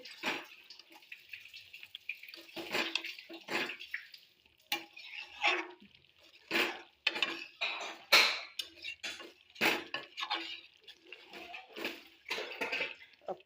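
A spoon clanks and scrapes in a pot while meat curry with potatoes is mixed, then the pot is lifted off the heat, giving a string of sharp metallic knocks and wet stirring sounds, close and irregular.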